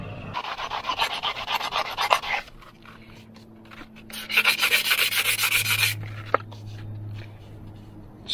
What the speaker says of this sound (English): I am just going to sand a little bit on the inside.